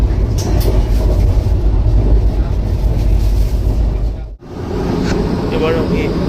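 Steady low rumble and rattle inside the Vande Bharat Sleeper train running from Kamakhya to Howrah, continuous and loud with a brief drop in noise near the end, then resuming; faint voices underneath.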